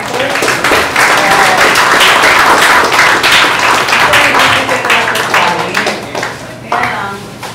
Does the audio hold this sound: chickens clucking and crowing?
no